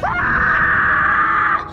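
A woman in a fantasy film scene screams in fright, one loud, sustained shriek lasting nearly two seconds before it cuts off.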